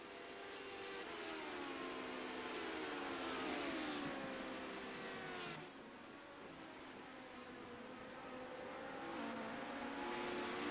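Race cars in the CORE Premier Series at a track event, a steady loud engine roar holding and shifting pitch as cars accelerate and pass, continuous with no talk.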